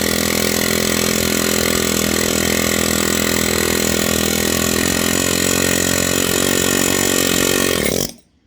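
An air chisel bought secondhand runs continuously at close range, a loud, harsh rapid hammering rattle with a constant pneumatic roar that cuts off abruptly at the end.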